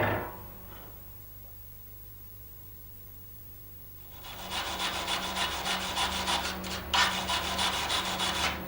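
Tack welds on steel are cleaned with a wire brush or file, giving a fast, rhythmic rasping scrape that starts after a quiet stretch and continues close and steady to the end, without talk.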